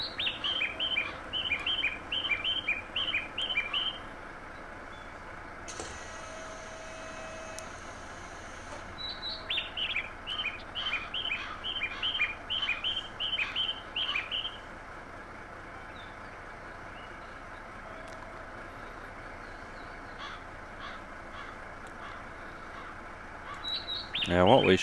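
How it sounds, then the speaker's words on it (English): Station ambience in Train Simulator Classic with bursts of high, repeated bird chirps in quick rhythmic runs, pausing and returning over a quiet background hum. "chirpy birds."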